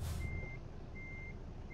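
Reversing alarm of a semi truck in American Truck Simulator, three evenly spaced electronic beeps sounding over a low, steady diesel idle rumble, with a brief air hiss at the start.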